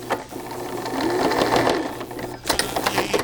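A sewing machine stitching a rolled fabric edge, running in a steady close mechanical whir that speeds up through the middle, then breaks into short bursts as it backstitches.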